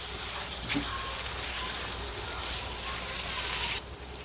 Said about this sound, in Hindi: अभी टमाटर डालेंगे और टमाटर को अच्छे से गलाएंगे